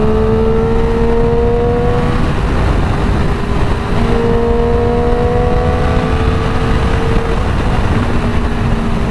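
A Triumph Daytona 675 motorcycle engine drones loud and close, its pitch rising and falling in repeated revving sweeps under a constant rough roar of riding noise.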